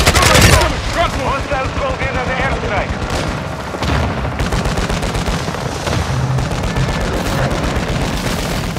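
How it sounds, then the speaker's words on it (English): Gunfire in the Call of Duty: Modern Warfare II video game, dense bursts of rapid shots and booms, loud and close, with voices shouting throughout. "They're shooting at me!"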